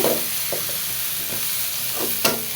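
Vegetables frying in a pan with soybean chunks, a steady sizzle and hiss with a few soft scrapes and clicks of a spatula stirring, close and without talk.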